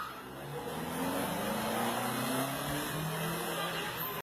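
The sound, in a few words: car accelerating toward a person during a taxi-Uber fight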